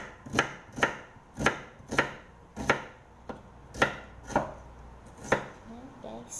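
A knife chops ginger on a cutting board with about ten sharp, evenly spaced strikes. Each knock is close and distinct against quiet surroundings.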